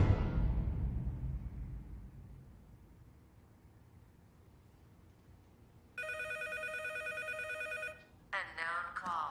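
A telephone rings in a tense drama scene, a steady electronic ring tone sounding for about two seconds, then breaking into a second warbling ring burst after a low rumbling backdrop fades.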